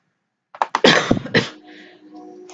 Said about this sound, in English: I apologize for my coughing, froggy throat.